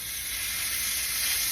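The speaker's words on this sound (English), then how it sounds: "Hopefully we'll get a nice big sizzle sound." Steak sizzles steadily in a hot fry pan, a dense, even hiss with no pauses and no voices.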